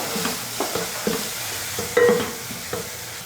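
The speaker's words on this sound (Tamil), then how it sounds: "அதையும் எண்ணெயில் போட்டு வதக்கிக்கோங்க." Curry powder sautéed in oil in a pan for a vegetarian kuzhambu, steady soft sizzling with repeated spoon scrapes and stirring knocks, close and fairly quiet, no talk.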